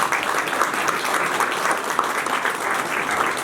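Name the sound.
applause for the event organizer at Veterans Day ceremony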